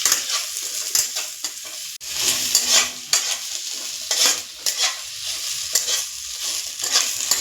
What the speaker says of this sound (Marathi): यातच आपण लसूण आणि आलं पण टाकायचं आहे, ते पण चांगलं भाजून घ्यायचं आहे